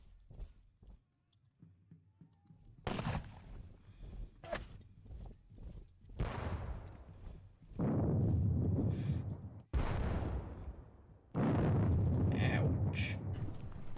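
Artillery fire in a Valmy battle video game, heavy booming cannon blasts rolling out in long loud bursts with quieter rumbling gaps between them.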